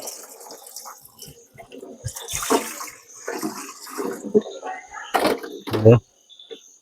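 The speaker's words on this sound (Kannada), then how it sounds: "ಸ್ವಲ್ಪ ನೀರು ಹಾಕುವ." Water poured into a pot to make steam for cooking bamboo biryani, heard as splashing and running water in bursts amid kitchen clatter, with a person talking throughout.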